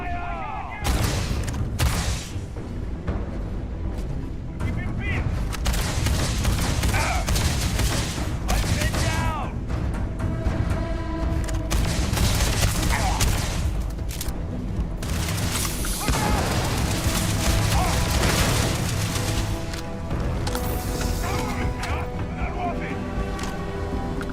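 Gunfire from a weapon in the space-exploration video game Starfield. Loud, dense shots and booming bursts fire almost continuously, with sustained volleys and short gaps, under a voice that talks now and then.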